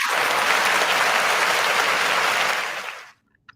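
An audience at an indie talk show claps in a dense, steady burst that cuts off abruptly, leaving a couple of faint stray sounds afterward.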